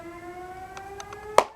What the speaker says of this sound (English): That is the siren for the tornado drill.